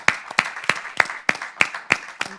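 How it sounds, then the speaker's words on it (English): Audience applause at a live panel event, a steady round of clapping from a room of people heard near and alone, with sharp repeated claps peaking in a regular rhythm throughout. "Can we please get a round of applause?"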